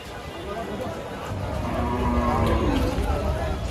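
Large cattle moo loudly and drawn-out at a busy outdoor cattle market in Shonir Akhra, Dhaka, with voices chattering in the background.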